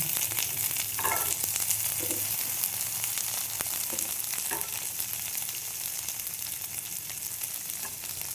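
Chopped green chillies and peas fry in hot oil in a pan, giving a loud continuous crackling sizzle with occasional stirring scrapes, close up and without talk.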